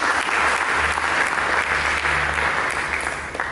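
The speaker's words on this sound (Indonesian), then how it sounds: "Mari kita berikan tepuk tangan bagi Yesus" A church congregation claps steadily and enthusiastically during a sermon, a dense wash of applause that carries on evenly before tapering slightly at the end.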